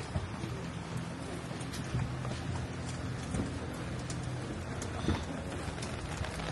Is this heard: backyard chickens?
no